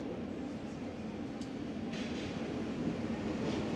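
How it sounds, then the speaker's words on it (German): A Flixtrain FLX 20 service rolls into Hamburg station, a steady low rumble filling the platform throughout with faint brief squeaks and hiss above it, fairly distant, no voices. "Einfahrt Flixtrain FLX 20 nach Hamburg."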